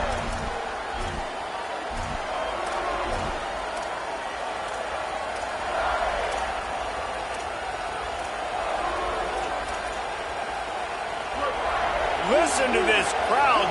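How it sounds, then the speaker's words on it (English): A basketball arena crowd roars steadily through a college game between Mizzou and Mississippi State, a loud, continuous wash of cheering that swells in places, with a commentator talking over it. "Listen to this crowd just shaking the girders of this place, trying to help their defense."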